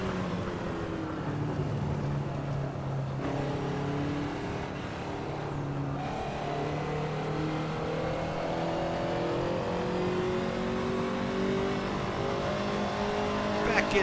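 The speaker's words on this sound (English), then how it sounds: "You know when you've got a V8 car, it just sounds torquey, it sounds throaty, it sounds like business." Ferrari 288 GTO V8 engine in the Assetto Corsa racing game, revving and shifting steadily through gears with a throaty drone, while someone talks over it throughout.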